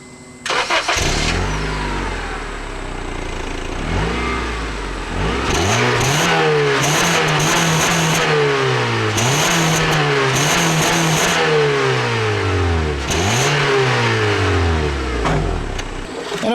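A 2010 Honda Civic LX-S 1.8-liter four-cylinder single overhead cam engine cranks and starts, then revs up and down repeatedly, loud and close, with no voices over it.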